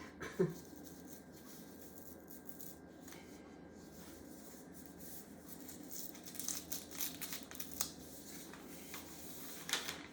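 Paper being unfolded for crumb quilt piecing gives soft, close crinkling and rubbing rustles, a brief crackle at the start and then denser papery bursts toward the end, quiet and without talk.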